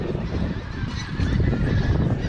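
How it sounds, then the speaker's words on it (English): A flock of Canada geese honks continuously nearby, a loud overlapping chorus of nasal calls with no speech. "Canada geese."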